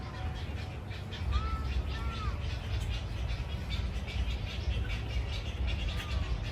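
Two parent birds near a nest of babies give a few short chirping calls, faint and somewhat distant, over outdoor crowd murmur at a garden festival.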